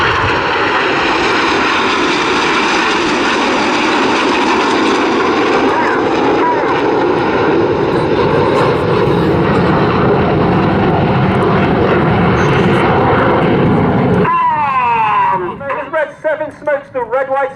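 Red Arrows jets performing a barrel roll at the Southport Airshow, a loud continuous jet roar sweeping past and then fading, followed by a commentator's voice.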